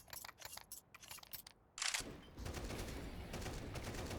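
Rapid AK rifle bursts from a competitive video game match, a quick string of sharp shots followed by a louder blast and a steady rattling wash of game noise.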